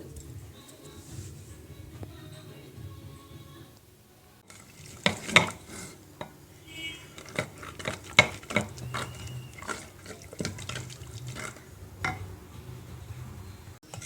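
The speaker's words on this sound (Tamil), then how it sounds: "பருப்பு மத்து போட்டே கடைஞ்சிடலாம்" Cooked dal (paruppu) mashed by hand with a wooden churner (mathu) for South Indian dal masiyal, a series of irregular knocks and scraping thuds against the pot at close range, with no talking.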